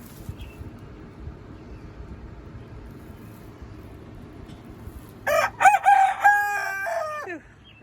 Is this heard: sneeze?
no